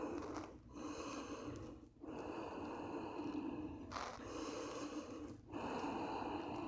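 Heavy breathing while resting in child's pose after a morning yoga session, with slow, deep, audible breaths and snort-like exhales, close and quiet.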